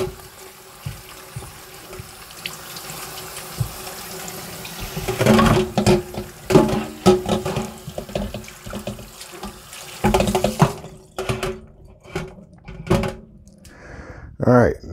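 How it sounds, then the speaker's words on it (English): Bananas rinsed under a running kitchen tap for homemade banana strawberry wine, a steady stream of water with clunks and handling noises near the sink, ending with a brief spell of quiet. "let's go ahead and give these bananas a good rinse"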